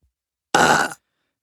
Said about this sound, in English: That's the stock burp sound.